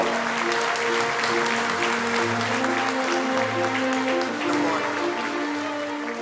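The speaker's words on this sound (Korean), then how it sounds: "여러분 다시 한번 큰 박수로 축하해 주십시오" Sustained applause from a large crowd at a peace prize ceremony, steady and dense clapping filling the whole stretch, with faint voices mixed underneath.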